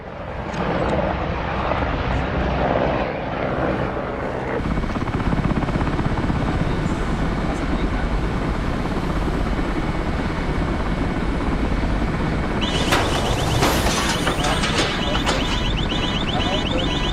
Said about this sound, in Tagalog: May helicopter na bro.